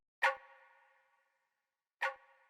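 Pill perk effect from an Internet Money DT or side piece drum kit: two short metallic, bell-like clangs about two seconds apart, each with a sharp attack and a ringing decay, faint and alone.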